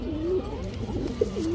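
A domestic pigeon coos close by in a few soft, rolling calls over a low background murmur.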